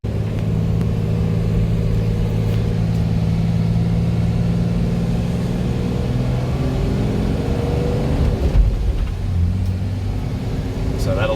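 A car drives slowly over a firm sandy beach, its engine noise steady and close throughout with wind and rumble beneath, while people talk over it.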